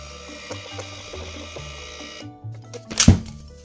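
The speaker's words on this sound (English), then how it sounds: "If you want to test print your receipts, you just go to settings, you go to hardware, printer and print test." A receipt printer runs a test print at a craft fair stall, a steady mechanical whir with clicks that ends in a sharp tearing rasp.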